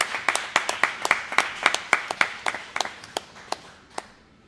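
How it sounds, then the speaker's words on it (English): Sparse clapping from a small audience, a series of crisp, distinct hand claps in an uneven rhythm that thins out and fades to a last few claps. "Can we give G Mama a round of applause?"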